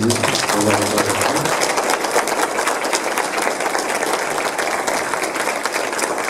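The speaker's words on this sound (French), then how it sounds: "je propose pour commencer qu'on applaudisse et qu'on remercie Abdi" An audience claps loudly and continuously at a youth summer camp gathering in France, with thick steady applause throughout and a brief low hum at the start.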